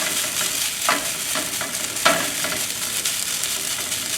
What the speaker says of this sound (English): I'm going to make like a scrambled egg here, and then going to go over the rice